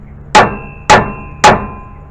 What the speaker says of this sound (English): You can use a Thor hammer and pound it right here